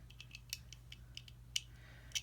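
Small metal screws on a We Knives 605 pocketknife being worked loose with the knife's included tool, a series of light close clicks and ratcheting ticks at an irregular pace.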